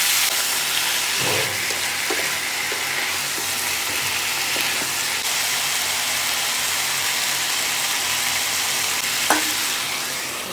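Potatoes fry in a pan for a village-style local chicken curry, a steady sizzle with occasional stirring scrapes and clicks throughout.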